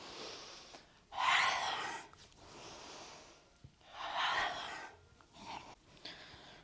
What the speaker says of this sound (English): Breathing out through the mouth.